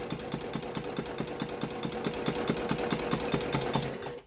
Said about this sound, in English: I'm going to sew a straight line down to the corner